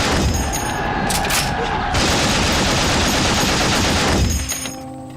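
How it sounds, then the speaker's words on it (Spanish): German machine guns of the First World War fire in dense, continuous bursts, loud and close, with heavy booms layered under the rattling fire for about four seconds before tapering off. "las ofensivas del general Joffre son rechazadas por las ametralladoras alemanas"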